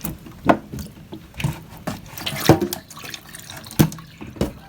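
Water poured over durian seeds for soaking, with a series of separate splashes and trickles at irregular intervals, close and fairly loud.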